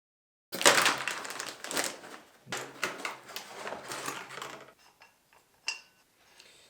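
Package of car parts for an E36 race car rebuild being opened, with loud crinkling and tearing of plastic wrapping and cardboard for about four seconds, followed by a few faint rustles and a sharp clack.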